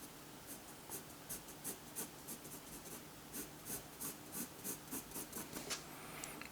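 Graphite pencil shading bird feathers on drawing paper, a soft rhythmic scratching of short repeated strokes, close and fairly quiet, with no voices.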